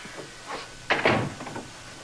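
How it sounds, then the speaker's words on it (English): A door is shut indoors with one sharp close, followed by a brief rattle and some softer settling noises, loud and near, with no talk. "shut the door"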